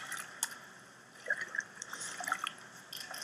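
Dirty water with rabbit droppings is stirred in a jug, making soft, scattered drips and small sloshes, quiet and close, irregular and with no voices.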